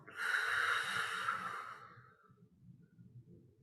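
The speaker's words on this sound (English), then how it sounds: "and breathing out." A slow, audible breath out during a guided breathing meditation, soft and close, with a breathy hiss that fades gradually over a couple of seconds into quiet low rustling.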